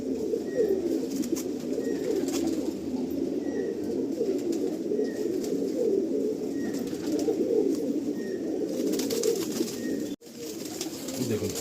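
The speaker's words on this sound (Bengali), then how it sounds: "দেখুন এই যেটা মালবাহী পায়রা দেখুন।" Pigeons in a pigeon loft coo steadily and close by, a continuous low rolling murmur from several birds, with faint higher chirps and rustling over it.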